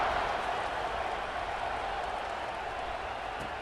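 Steady roar of a stadium crowd in the NCAA College Football 26 video game, a broad, sustained wash of cheering noise that holds at an even level throughout with no voices standing out.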